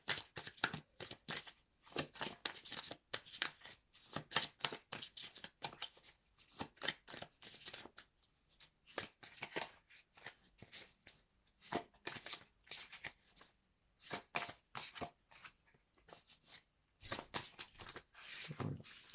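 A deck of stiff oracle cards being shuffled by hand, a continuous run of crisp riffling and slapping bursts with brief pauses, close and fairly quiet.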